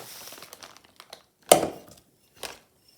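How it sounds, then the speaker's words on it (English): A plastic bag crinkles while brown sugar is packed into a 1/3 measuring cup through the outside of the bag, with soft rustles building to one sharp crunch and a lighter crinkle after it, close and alone. "I'm packing it in using the outside of the bag"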